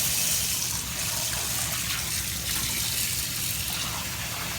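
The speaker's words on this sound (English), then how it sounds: "So we're going to turn the water on." Water gushes steadily from a tap, close and loud, as a salmon is rinsed under it, with no voices over the continuous hiss.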